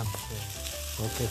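Shrimp stir-frying in soybean oil for shrimp fried rice gives a steady, close sizzle with a brief spoken remark over it.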